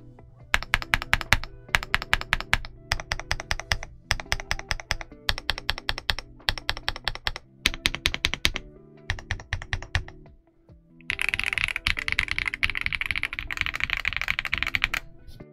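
Typing on an Ajazz AK870 tenkeyless mechanical keyboard with stock switches: dense, steady bursts of close clacking keystrokes with brief pauses, then a brighter, busier stretch of fast typing near the end, no voices.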